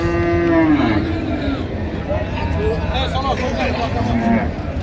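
Several cows and calves moo loudly and repeatedly, long low calls overlapping one another, at a cattle market in Ambari, Dinajpur, with a crowd murmuring and talking in the background.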